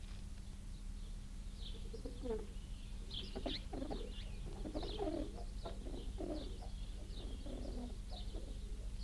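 Pigeons cooing in soft repeated calls over a low steady hum, with faint background voices mixed in.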